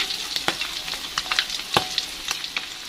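Pieces of tongkol tuna frying in a modest amount of hot oil, crackling and sizzling steadily with sharp pops and spits scattered throughout, close up and without talk.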